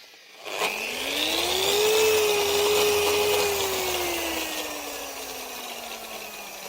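A corded Rupes LHR15 Mark III polisher on speed level 6 running steadily, a close whirring motor tone that winds up, holds and slowly sags in pitch, with no talking over it.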